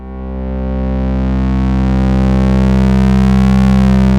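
A loud, dense Moog Grandmother synth drone with a rough, rapidly cycling texture from audio-rate square wave modulation that swells in slightly at the start and holds steady, heard alone.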